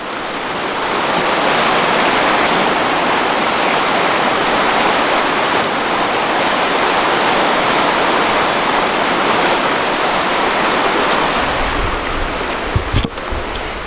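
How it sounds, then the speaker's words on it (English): Fast, swollen spring-runoff stream rushes in a loud, steady roar that fills the scene without pause, with a few brief knocks near the end and no talking. "check out this water. Spring runoff here, just crazy. This thing is ripping."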